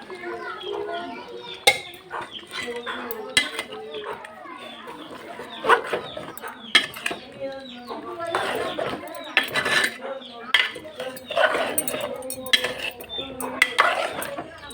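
Boiled taro being added to braised meat in a pot, with close clanks and scrapes of a utensil against the metal pot at irregular intervals and faint background voices.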